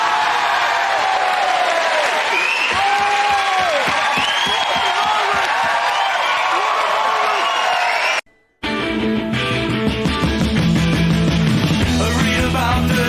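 A studio audience at a comedy panel show cheers and claps loudly with whoops and voices over the top, then an abrupt cut leads into a stretch of music.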